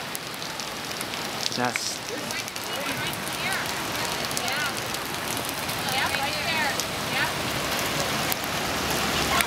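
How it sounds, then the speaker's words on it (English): Large hail falling during a storm in Tamaqua, Pennsylvania, making a dense, constant patter and clatter that builds slightly louder, with people briefly talking over it. "This is the first time I've ever seen this hail this big."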